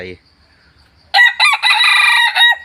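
A Thai decoy fighting rooster of the Lao Sai Fa line, a jungle-fowl hybrid, gives one loud, close crow with a few breaks in it. It comes right after a short burst of a voice and then rings out on its own.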